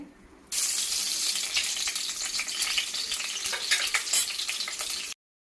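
Oil and butter heating in a pan for pav bhaji, a sudden onset of loud, steady hissing sizzle that holds close and even for about four and a half seconds, then cuts off abruptly, no voices.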